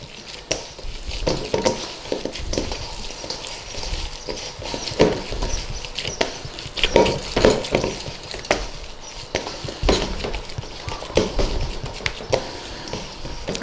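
Minced lamb for homemade doner being squashed and mixed by hand or spoon in a bowl, soft irregular squelching and pattering with occasional clinks, close and continuous.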